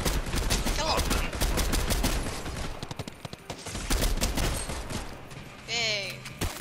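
Rapid bursts of video game gunfire crackle in dense volleys, with sharp single shots and rattling automatic fire, while players talk excitedly over the shooting.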